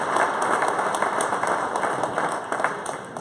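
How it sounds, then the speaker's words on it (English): Applause from an audience at a community celebration in a museum, dense continuous clapping that stays strong and even from start to finish, fairly close. "Yes, that deserves a round of applause."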